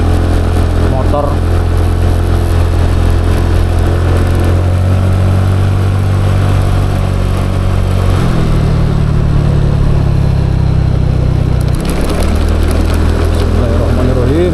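A motorcycle engine runs close behind someone standing at a corner by a gateway in the Cangar forest, a steady mid-pitched hum that shifts in pitch and swells partway through, heard under a person talking.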